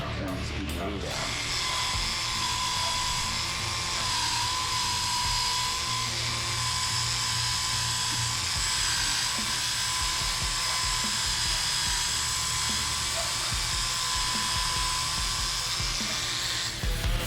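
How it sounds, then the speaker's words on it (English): A small car polisher runs at low speed in straight rotary mode on a 2014 Toyota Tundra, a steady whining hum with a high tonal drone, continuous and close, with faint talk in the background. "I'm going to get into the areas that I couldn't get into with the larger polisher. Turn the speed way down."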